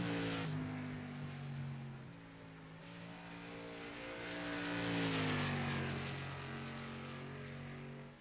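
The number 52 race car drones steadily through a timed lap on a track, its engine tone rising and falling as it passes, loud and continuous with no talking.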